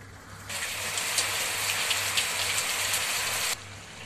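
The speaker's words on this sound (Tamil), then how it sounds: "நாமக்கல் சுற்றுவட்டார பகுதிகளில் சுமார் 1 மணி நேரத்திற்கு மேலாக குளிர்ந்த காற்றுடன் சாரல் மழை பெய்தது." Light drizzle with a cool wind around Namakkal, a steady broadband hiss of rain that swells in for about three seconds, then cuts off abruptly.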